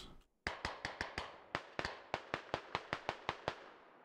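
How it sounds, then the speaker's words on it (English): Gunfire traded in the military shooter game Squad: a rapid series of about sixteen sharp, evenly spaced shots. Each crack is loud and close, with a short decaying tail, and there is no talk over them. "Shots being traded."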